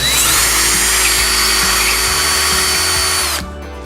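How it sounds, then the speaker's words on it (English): A power drill with a 7/32 bit boring into a wall for an anchor, a loud, close, steady high whine holding for over three seconds before cutting off abruptly. "now I'm going to use my 7/32 bit and start to drill."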